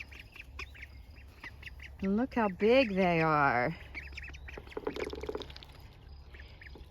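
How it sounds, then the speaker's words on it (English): Newly hatched ducklings give a burst of high, rising peeping quacks lasting a couple of seconds, fairly close, with a voice speaking over quieter chirps afterward. "one of them is starting to quack"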